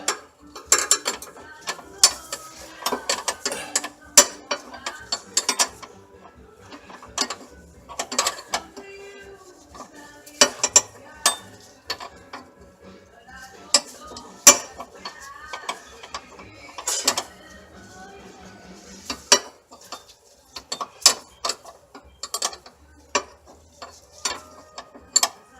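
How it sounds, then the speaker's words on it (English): Ratchet wrench snugging nuts on a Jaguar fuel line after a fuel filter swap in a home garage, with repeated bursts of quick clicking strokes, close and fairly loud, separated by short pauses. "let's get these nuts tightened up"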